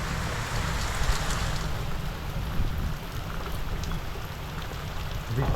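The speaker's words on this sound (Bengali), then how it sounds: "অনেক জোরসে জোরসে পড়ছে, খুবই জোর বৃষ্টি পড়ছে।" Heavy rain pours down steadily outdoors near a Durga Puja pandal, a dense, loud, unbroken roar of drops close by with no voices.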